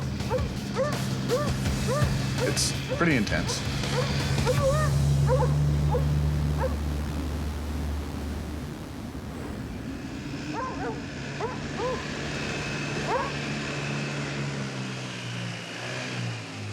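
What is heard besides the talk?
dogs barking excitedly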